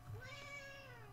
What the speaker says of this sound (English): I don't know if you guys heard that. That's my cat.